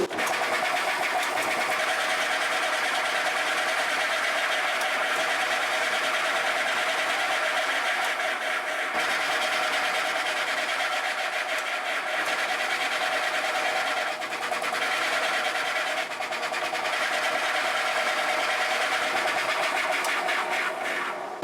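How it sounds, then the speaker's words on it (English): A radius sander runs with a continuous high whirring grind as it skims the leading edge of an acoustic guitar bridge on an Epiphone Masterbilt, steady and close with no pauses. "And back to the radius sander."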